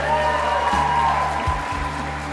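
Audience applause at the 2024 Tasmania Australian of the Year Awards ceremony: steady clapping from a crowd runs the full length at an even level, mixed with a sustained tonal music bed underneath.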